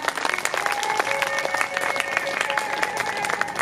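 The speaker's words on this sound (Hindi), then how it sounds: "ताली इसलिए बजा दीजिए।" A crowd at a Bhagwat Katha religious gathering claps in welcome, brisk continuous applause over a sustained musical tone, with a voice rising now and then.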